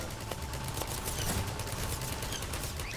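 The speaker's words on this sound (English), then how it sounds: "Sentry turrets, help us out!" Sentry turrets fire in Garry's Mod on a Halloween horror map, a steady rattle of rapid shots lasting the full three seconds over a constant background hum.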